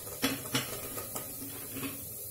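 Carrot, cauliflower and other vegetables tipped into a pot for an oil-free dalia, a few distinct clunks and clatters of pieces and a spoon against the vessel, close and spaced out, with no talk.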